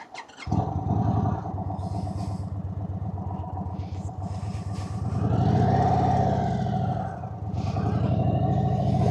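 A 2026 Indian Chief Vintage motorcycle engine cranks and fires up, settling into a loud, close, rhythmic V-twin idle with a blip of revs in the middle before dropping back to a lumpy idle.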